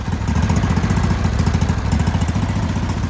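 A Craftsman LT1000 riding lawn mower engine, a dumpster find revived, running with a bit of choke: a loud, close, rapid chugging idle with an even rhythmic pulse and a faint metallic clatter, no voices over it.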